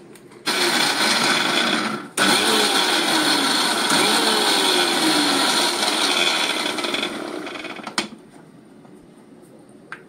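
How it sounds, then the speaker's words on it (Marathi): Mixer grinder coarsely grinding chana dal, a loud whirring grind that cuts out briefly, restarts and runs on, then stops with a short final pulse. "म्हणजे जरा मिक्सर जरा चालू केला, बंद केला, चालू केला, असं करून ती अर्धबोबडी आपल्याला हवी आहे"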